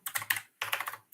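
Rapid keystrokes on a computer keyboard come in two quick close bursts separated by a brief pause, crisp and nearby, as a web address is typed.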